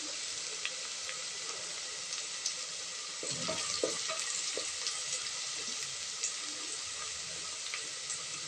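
Green chilli pieces sizzle in hot oil in a pan, a constant soft hiss with a short burst of spatter and stirring in the middle.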